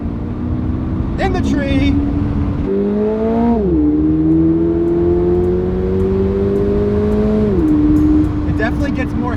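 2022 Toyota GR86 accelerating hard downhill, its engine note climbing steadily in pitch, dipping at a gear change and climbing again, loud and close, with people talking briefly over it.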